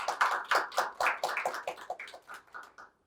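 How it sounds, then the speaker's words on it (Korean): A small audience at a policy knowledge forum claps to welcome Professor Park Jeong-hoon, with distinct, fairly close hand claps in an uneven patter that gradually thins out. "박수로 환영해 주시기 바랍니다"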